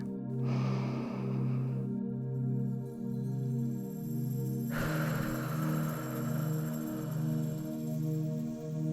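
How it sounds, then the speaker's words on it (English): A slow, deep inhale during a meditation exercise, soft and close, rises over a steady droning tone with a gentle musical bed beneath, followed by a second breathy swell. "Breathe in."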